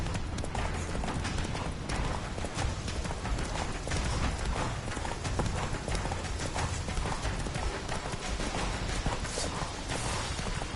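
A horse gallops with fast, continuous hoofbeats in the video game The Witcher 3, loud and close, running steadily for the whole stretch with no talk over it.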